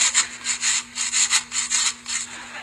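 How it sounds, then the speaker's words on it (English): A carrot is grated by hand at an angle in rapid, even back-and-forth rasping strokes, close and crisp, about ten scrapes in under three seconds, with a faint steady hum in the background. "I notice you're grating that carrot at a 45-degree angle"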